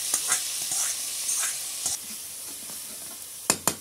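Spices frying in hot oil in a wok sizzle and hiss steadily, with occasional stirring scrapes and a few sharp clatters near the end.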